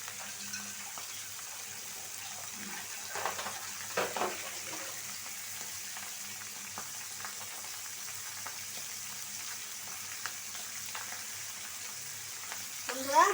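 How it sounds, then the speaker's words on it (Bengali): Fish fries in a pan with a faint, steady sizzle, broken by a few soft utensil clinks and stirring scrapes. "মাছটা বাজা হোক মাছটা বাজা হয়ে গেছে"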